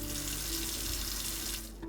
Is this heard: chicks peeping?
no